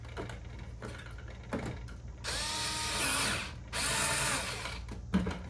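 Small electric screwdriver driving a screw back into an Epson L120 printer casing, two whirring bursts of about a second each, close, after a few faint handling clicks.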